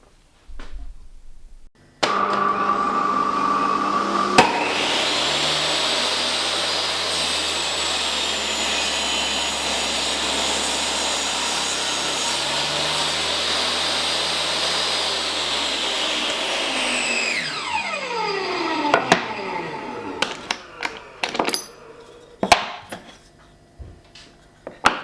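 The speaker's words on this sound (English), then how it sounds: "we'll set that up on the table saw and we'll chop that 2 strips" A table saw motor spins up loudly and holds a steady whine while it rips wood into two strips, with the pitch sagging during each cut. Then it winds down, and clattering and handling knocks follow.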